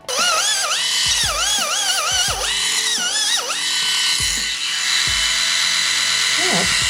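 An electric pedicure machine with a coarse head sands callus off a heel, its close, whiny buzz rising and falling in pitch as pressure changes, with soft talking in the background.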